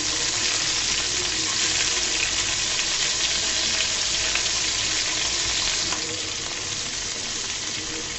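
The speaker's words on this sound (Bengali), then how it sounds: "এই পর্যায়ে আমি আরেকটু তেল দিয়ে দিলাম। দেওয়ার পরে দিয়ে দিচ্ছি রসুন কুচি, তারপর দিচ্ছি কাঁচামরিচ কুচি," Chopped garlic and green chilies fry in oil with a loud, steady, close sizzle that hisses on without a break and with no talking.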